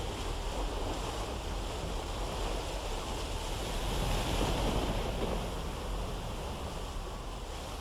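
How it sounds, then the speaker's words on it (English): Wind drives a Viking sailing ship across the sea, a steady broad rush of wind and surging water that holds loud and unbroken throughout, swelling slightly midway, with no voices. "The wind is pushing the ship."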